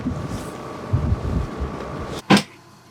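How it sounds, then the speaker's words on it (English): Gusty wind at sea buffets the microphone in a steady low rumble, with a sharp louder gust near the end before it briefly quiets. "Pretty windy here."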